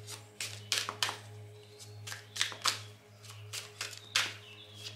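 Tarot cards shuffled by hand ahead of a card reading, a run of crisp riffling bursts and soft taps that come in irregular clusters over a steady low hum, close and fairly quiet.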